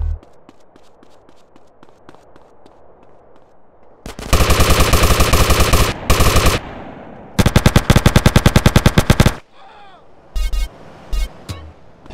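During a gang war in Grand Theft Auto San Andreas, sparse single shots give way to two long, loud bursts of rapid automatic fire, followed by a few shorter volleys.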